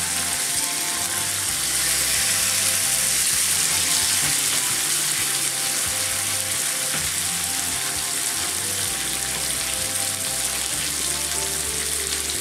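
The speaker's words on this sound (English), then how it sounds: "And we're going to let them sear and grill until they get some nice marks on them." Salmon fillets sear on a hot grill pan, giving a steady, loud sizzle that holds evenly throughout with faint clinking underneath and no talk.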